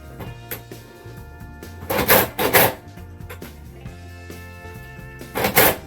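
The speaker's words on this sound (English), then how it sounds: "From this point, I use the hand screwdriver to tighten things up." A hand screwdriver tightens door knob screws during a door knob installation, giving a few short scraping, ratcheting bursts close by over a steady background hum.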